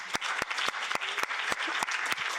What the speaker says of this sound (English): a round of applause for her too